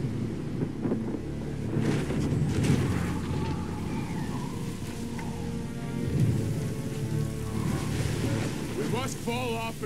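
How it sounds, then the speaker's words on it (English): Heavy rain and squall wind at sea aboard a whaling sailing ship, a dense steady roar of downpour and gusts with creaking and sea wash, loud and continuous throughout. "Best prepare for weather, Mr. Bond. We're headed into a squall."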